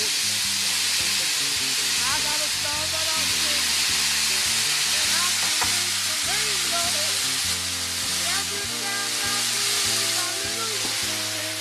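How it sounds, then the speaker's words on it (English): Loud, steady sizzling of soy sauce hitting a hot pan with garlic Brussels sprouts, a dense hiss that fills the whole clip, with faint music in the background. "Ah, listen to the sizzle."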